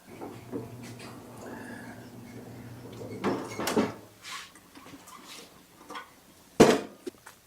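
On a leaf blower with a Predator engine swap, a small access door is worked open: a few close plastic knocks and clicks, then a sharp snap near the end, with faint rustling and handling noise between.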